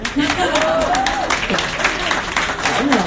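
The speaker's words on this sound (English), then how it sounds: "Applause, please." Loud, sustained applause from a crowd at a live music performance at a watch fair booth, with voices and cheering rising over the clapping.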